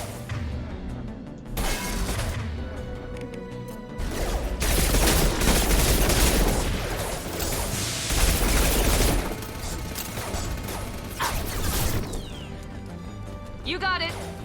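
Sustained gunfire from Inferno rounds in the video game Mass Effect 2, loud and dense in bursts with crashing impacts, mixed with game music and effects while a voice talks over the action.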